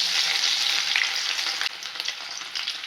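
Ginger dropped into hot sesame oil with popped mustard seeds, a bright continuous sizzle and crackle close by, stirred now and then, with no voices.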